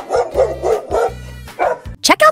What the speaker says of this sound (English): Yep, it's a dog.